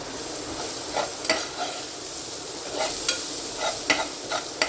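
Mixed vegetables fry in olive oil over high heat, a continuous hissing sizzle broken by small pops and stirring scrapes, close and even.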